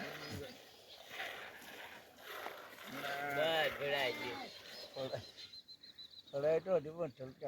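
Goats bleat repeatedly at close range during fresh milking for tea outdoors, with several wavering cries in a row, under and between people talking.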